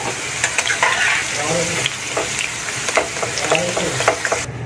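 Potatoes fry in hot oil in a home kitchen while being stirred, a steady close sizzle broken by repeated scraping and clinking strokes of the spatula, with no voices.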